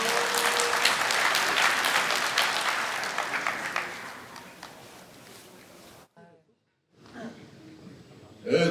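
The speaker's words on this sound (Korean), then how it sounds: "박수로 환영해 주십시오" A union general meeting audience of construction workers applauds to welcome a speaker, loud sustained clapping that gradually dies down, followed by a brief silence and then room noise as the next voice begins.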